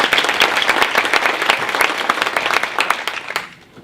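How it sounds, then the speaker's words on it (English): A crowd applauds at a diversity and inclusion launch event in Seattle, dense steady clapping that carries on for several seconds at full volume before thinning out near the end. "Round of applause, please."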